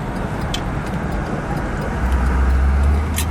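A 1955 Mercury Monterey hardtop cruises along, heard from inside as a steady broadband road and wind rush with a low engine rumble that swells toward the end, with no one talking.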